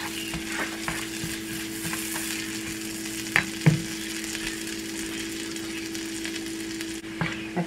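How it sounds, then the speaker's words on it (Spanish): Garlic frying in a pan gives a steady, close sizzle, with a few sharper clinks and stirring knocks partway through and no talking. "Aquí el ajo ya se coció un poquito."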